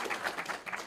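A brief burst of scattered clapping from an audience at a regional state address, moderately loud and irregular, fading within a second, with no voices over it.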